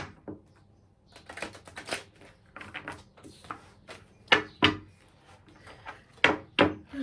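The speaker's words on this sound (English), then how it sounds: "Just want to have a little shuffle this way." A deck of oracle cards being shuffled by hand, with soft papery riffles and sharper slaps coming in irregular bursts, several louder snaps near the end, close and clear with no talking.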